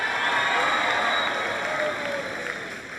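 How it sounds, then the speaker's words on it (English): Audience applause fills a school gathering for a student's introduction: dense, steady clapping and crowd noise held at full strength throughout, easing slightly toward the end. "Give Jorge a big round of applause for his introduction."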